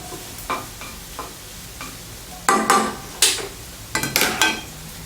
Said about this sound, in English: the barbecue pork, everything back to the pan. Mix well.